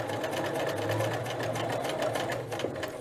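A domestic sewing machine runs steadily as it stitches a collar onto a dress, a continuous close whirring hum with a fast needle rhythm that carries on for the full stretch without pause.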